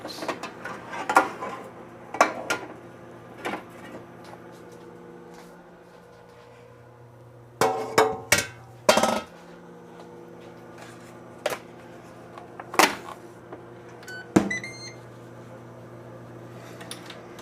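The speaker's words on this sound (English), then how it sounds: "I am going to put this in the air fryer for 10 minutes." Food being put into an air fryer, with sharp clacks and clunks of the basket and handling scattered over a faint steady hum, several quick knocks grouped together, heard close with no talking.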